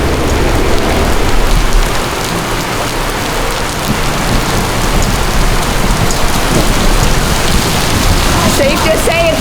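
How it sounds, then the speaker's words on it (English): Heavy rain pours steadily during a thunderstorm on a hot Idaho day, a dense, loud, unbroken hiss of drops on surfaces with no letup. "Oh, so it was blue sky, hot, and then thunderstorms built. Now it's pouring rain."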